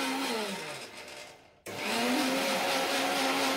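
A kitchen mixer grinder blending food finely whirs loudly and close. It winds down, cuts out for a split second, then roars back at full speed with no talk.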